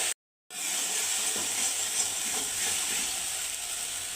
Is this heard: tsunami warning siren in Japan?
no